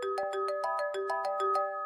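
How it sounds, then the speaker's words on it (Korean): A phone ringtone melody heard during a late-night taxi ride near a motel district, coming from a woman's handbag: a bright repeating electronic tune of quick even notes, loud and clear, with no talk over it. "그때 여자분 가방에서 전화벨 소리가 들리더군요."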